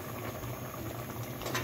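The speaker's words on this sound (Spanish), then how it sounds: "ahora que está hirviendo, vamos a colocarle nuestros espaguetis" Cream sauce with shrimp boiling in a pan, a steady dense bubbling and hissing simmer that stays even throughout at close range, with no voices.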